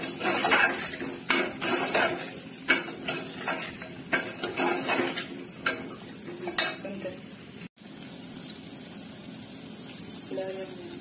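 A spoon stirs soaked, washed dal into a pot of drumstick (shevga) amti, giving repeated close scraping and clinking against the metal pot with a faint sizzle underneath.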